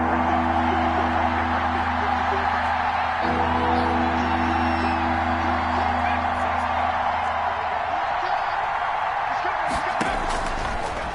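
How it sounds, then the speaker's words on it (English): Crowd noise rumbling through a Madden football video game on PS4 before a third-and-short snap, a steady wide roar with low droning hum, ending in a brief burst of slams and cheers. "Here comes a big one as this crowd gets out making some noise"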